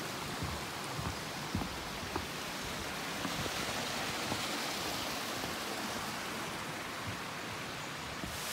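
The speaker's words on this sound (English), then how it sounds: "The sound of the birds and the water to our right." A stream runs beside a woodland path near Falkland, Scotland, with a waterfall close by. The water makes a steady, close, full rush throughout, and no one speaks.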